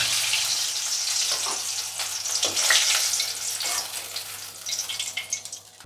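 Chitol fish muithya dumplings frying in hot oil, a steady bubbling sizzle with crackles and pops rising and falling, close by, with occasional utensil taps.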